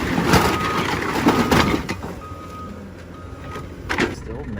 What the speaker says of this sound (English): I dumped a whole ass pallet of bricks